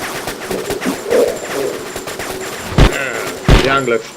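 Anglerfish gun firing in the video game Genocide Dolphins, rapid bursts of loud punchy shots with a few heavier blasts near the end, while someone talks over the gameplay.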